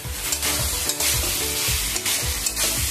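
Raw pumpkin curry with potato and chickpeas sizzles steadily in a pan over high gas, with repeated stirring scrapes forming a rough rhythm under continuous loud frying.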